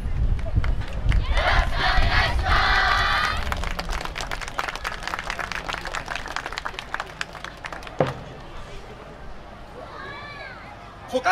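Crowd cheering and clapping along at an outdoor dance festival performance by a university team, a dense, lively wash of voices and rhythmic hand claps with music, loud and continuous throughout.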